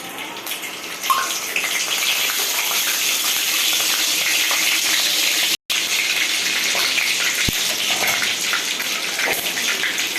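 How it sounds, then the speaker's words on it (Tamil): Cinnamon and cloves dropped into hot oil for chana masala: a dense, steady crackling sizzle, close and loud, broken by one brief cut in the middle, with no one speaking. "இப்போ எண்ணெய் காஞ்சிச்சு. பட்டை லவங்கெல்லாம் எடுத்து வச்சுருக்கேன், அதை போட்டுக்கலாம்."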